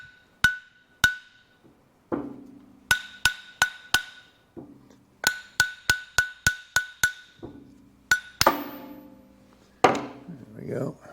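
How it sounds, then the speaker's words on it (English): Sharp metallic taps from a brass hammer striking a 1914 Chevrolet pinion gear shaft part, in quick clusters of ringing hits with dull thuds between, close by. "Using a brass hammer so I don't ding anything."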